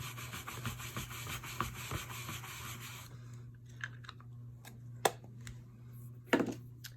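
A rubber stamp is scrubbed on a stamp scrubber with quick, close rubbing strokes for about three seconds, followed by quieter scattered taps and handling sounds.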